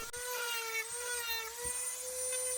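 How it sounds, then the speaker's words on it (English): A Dremel rotary tool whines at high pitch while carving into wood for a Christmas snowman project, a steady, fairly quiet buzz with faint low bumps underneath and no talking. "This Dremel work's a pretty tedious process."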